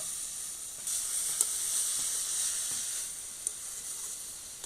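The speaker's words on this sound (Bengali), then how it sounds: "একটুখানি জল দিব নাড়াচাড়া করে আমি একটা পুর বানিয়ে নিব" Sugarcane jaggery with a splash of water hisses and sizzles in a hot pan as it is stirred into a sweet filling for pitha. A steady bright hiss runs throughout, with a few soft knocks from the spoon.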